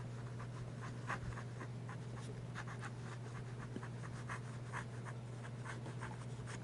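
Platinum Preppie fountain pen with a medium nib and Noodler's Bay State Blue ink writing on paper, giving a steady run of soft, close scratchy strokes over a faint constant background hum.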